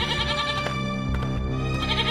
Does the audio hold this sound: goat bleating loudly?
yes